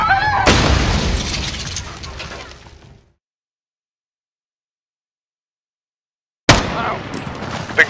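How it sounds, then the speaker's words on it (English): Gunfire and explosions from the Call of Duty Modern Warfare (2019) campaign crash loudly and densely, then cut to total silence for several seconds before another blast bursts in. "The gunshots, of course."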